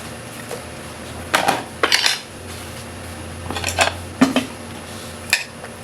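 Squash goes into a cooking pot with crab, giving several sharp clinks and clatters of metal pot and utensil, in scattered bursts against a quiet kitchen background.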